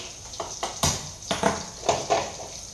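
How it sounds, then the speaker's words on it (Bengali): A metal wok set down onto a gas stove burner, giving several short clanks and knocks of metal on metal at close range, spaced irregularly with no talking. "এই যে কড়াই বসিয়ে দিয়েছি"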